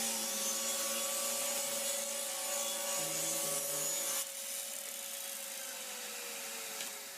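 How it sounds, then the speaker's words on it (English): A Delta 36-725 table saw hums with a steady whine, rasps briefly through wood midway, then the motor note slowly winds down. "let's get into some test cuts so you can see how this saw really performs"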